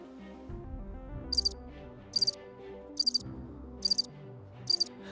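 Crickets chirp in short, high, regular bursts about once a second over a tonal game music background, clear and fairly prominent.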